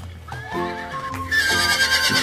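A stallion lets out a loud, rising whinny that bursts into a bright shrill neigh, accompanied by steady clip-clop hoof beats, all in a short close burst.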